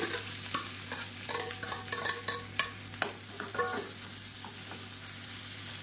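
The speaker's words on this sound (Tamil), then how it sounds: "சீரகம் பொரிய ஆரம்பிக்கவும் பொடியாக நறுக்கின வெங்காயம் மீடியம் சைஸாக ஒரு பெரிய வெங்காயம் கட் பண்ணி வச்சுருக்கேன்" Cumin and finely chopped onion frying in oil, with a steady sizzle broken by scraping stirs and a few knocks in the first half, close by, with a low hum underneath.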